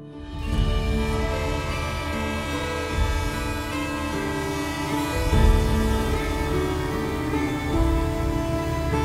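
A train rolls past with sustained horn-like tones and a heavy low rumble, punctuated by a couple of louder thumps.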